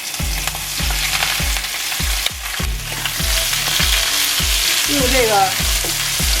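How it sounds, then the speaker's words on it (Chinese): Shiitake mushrooms stir-fried in fat rendered from pork belly, a steady close sizzle with repeated rhythmic scrapes of the spatula in the wok, while a voice speaks briefly over it. "煸出来的油来煸香菇，香菇的香味已经出来了"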